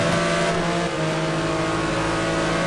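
Race cars at Suzuka circuit roar past in a loud, steady wall of engine noise, one close engine droning with a sustained pitch through the whole stretch.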